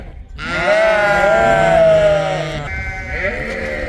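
Lambs bleating loudly on a farm after being let out once milking is done, one long wavering cry near the start followed by further overlapping calls.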